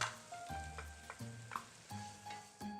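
Chorizo for a turkey stuffing sizzles quietly in a pan, broken by a few soft clunks and scrapes of stirring, close and low with no talk.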